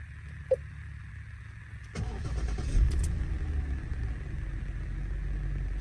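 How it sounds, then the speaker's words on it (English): Idling 3.0 petrol engine of a Jaguar XJ6 (X350), a steady low hum heard close up after a click, quiet at first and then fuller and continuous once it catches. "So we listen to the engine whilst I've got you in hand."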